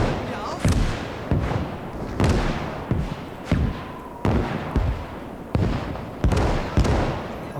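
Repeated explosions in the WWII strategy game Gates of Hell, a series of heavy booming bangs going off every second or so, some overlapping, fairly loud against a quieter battlefield background.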